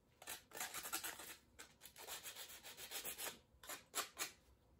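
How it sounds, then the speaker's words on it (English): Sandpaper is rubbed back and forth over splintered, freshly cut wooden edges, giving a soft, steady series of rasping strokes, close but fairly quiet, with short pauses between passes. "You can take some sandpaper and you can sand those edges."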